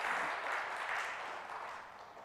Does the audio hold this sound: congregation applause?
yes